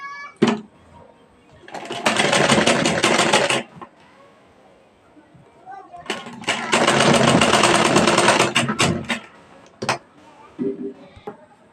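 Sewing machine stitching a blouse, running in two bursts of a few seconds each with pauses between, close and loud, while someone talks around it.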